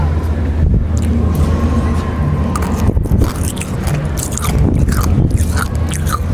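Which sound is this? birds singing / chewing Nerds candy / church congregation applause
chewing Nerds candy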